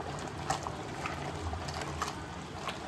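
Crab gravy simmers in a pot on a low flame, giving a soft, steady bubbling with small pops scattered throughout at a moderate, even level.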